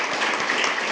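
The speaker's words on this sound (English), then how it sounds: "Clap for Alan." Brief burst of steady group applause at a school board meeting, dense and even from start to finish with no breaks.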